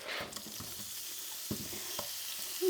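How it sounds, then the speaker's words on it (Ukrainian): Onion rings fry in a little oil in a pan, giving a steady soft sizzle broken by a few light stirring taps, close by and without talk. "і на цій же пательні підсмажимо, додамо трішки олійки і підсмажимо цибульку"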